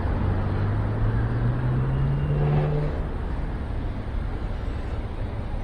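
Steady road traffic idling and rolling at a set of traffic lights, a continuous low engine rumble with one vehicle's rising drone as it pulls away, no voices.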